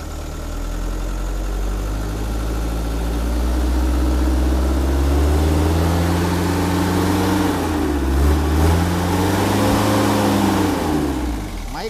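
A Kia closed-box truck with air conditioning runs close by, its engine idling in a steady low drone that swells as it revs up and settles back, with no talking over it.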